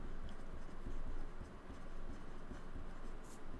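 Pen or pencil scratches steadily across paper as beam-design calculations for section modulus and bending stress are written out by hand. The strokes are quick and quiet, with a faint room hum beneath them and no talk.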